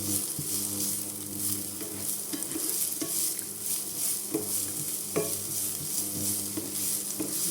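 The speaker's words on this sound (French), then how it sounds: "donc on fait dorer les petits oignons." Small onions sizzle in a hot pan as the base for Mexican rice, a steady close frying crackle broken by occasional scraping stirs and light clinks of the utensil, with no speech.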